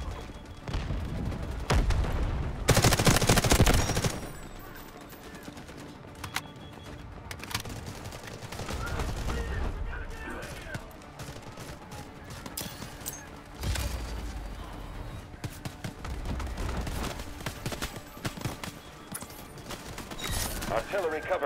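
Video game gunfire and artillery barrage in Delta Force: Hawk Ops, with bursts of rapid fire, heavy booms and a dense roar of battle throughout, loudest in an early blast.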